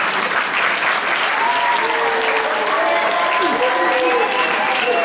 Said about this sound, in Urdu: ان کے لیے تالیاں